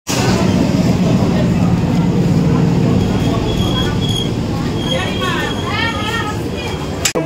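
A Bongaon local train passing through a station platform, a loud sustained rumble and rattle of carriages rolling by nearby, with people talking over it.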